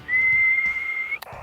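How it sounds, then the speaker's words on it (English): One steady, clear whistled tone, held for about a second, keys a Yaesu FT-818ND radio transmitter outdoors, followed by a brief click. "Okay, well, whistling works."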